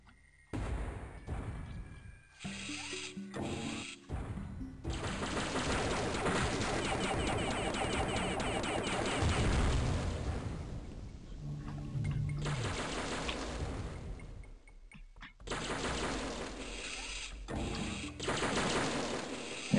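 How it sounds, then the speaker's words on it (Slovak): Sustained enemy fire in the 1998 Electronic Arts Windows game S.C.A.R.A.B., loud, dense rapid bursts that run for long stretches, broken by short gaps and brief pauses, with no talk over it. "Niekto agresívny tu nás zase strieľa."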